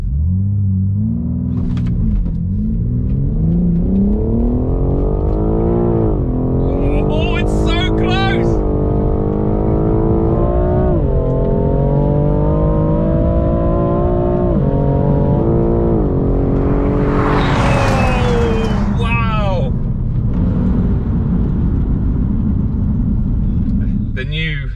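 BMW M4 Competition F82 and G82 launching in a close 300-meter drag race. Loud, steady engine roar with rising pitch through each gear, brief dips at the shifts, and constant rumble throughout.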